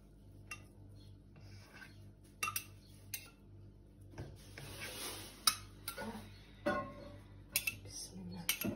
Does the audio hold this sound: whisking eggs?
yes